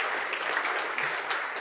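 Conference audience at a software developer event breaking into steady applause, a dense continuous patter of many hands clapping at moderate loudness with no talk over it.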